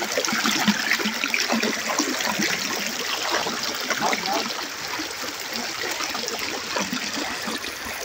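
Steady, rushing water of a strong river current fills the whole stretch, a broad continuous roar of a fast current with splashy detail and no pauses.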